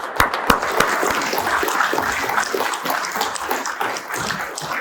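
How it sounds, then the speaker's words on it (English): Audience applause at an awards-style event honoring the Unverferth family, a dense steady wash of many hands clapping together, fairly close and sustained throughout with no break. "Let's give the Unverferths a big round of applause."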